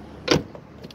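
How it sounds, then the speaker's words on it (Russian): A Ford Focus 1 car door is opened by its handle, giving a single short, fairly quiet mechanical clack, followed by faint small clicks. "Все, дверь открывается."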